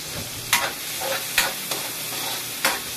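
Bitter gourd (ampalaya) sautéing in a pan sizzles steadily, with a few sharp spatula scrapes and knocks spaced through it, close up and with no talking.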